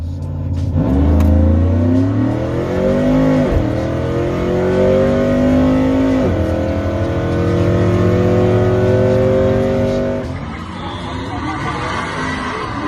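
Cammed, built 6.2 liter Chevy Avalanche truck on 24-inch wheels drag racing at Irwindale, its V8 engine revving and climbing loudly through several gear pulls, rising and dropping pitch before settling into a lower rumble near the end.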